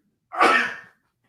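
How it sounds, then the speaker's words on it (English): A single sharp sneeze bursts out near the microphone during a real estate call-in radio show, brief and loud, with silence on either side. "just sneezing, man"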